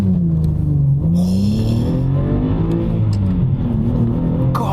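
A Subaru Legacy Spec B 3.0 launches hard, its engine revving loudly and climbing through the range, close and continuous with no talk over it.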